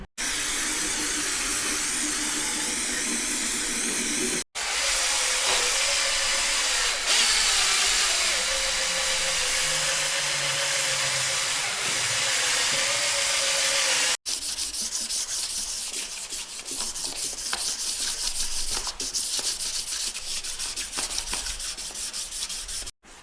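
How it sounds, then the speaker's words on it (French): Abrasive cleaning of a Mercedes CLK engine cylinder head, its exhaust and intake valve area being scrubbed, makes a loud, steady close-up sanding and rubbing roar in three long continuous passes separated by brief stops. "Donc voilà, le nettoyage de la culasse, c'est fini."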